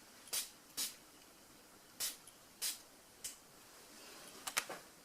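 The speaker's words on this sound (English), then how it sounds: "So I'll just take it off and do a from a distance spritz." A hand spray bottle spritzes water from a distance, in short airy bursts: six or so separate puffs with brief pauses between, the last few coming quickly together, fairly quiet.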